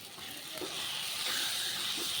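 Taro leaves being stirred in a pan as they cook down with the water drying off, a continuous soft sizzle and hiss with faint scraping, close and steady, gradually growing a little louder.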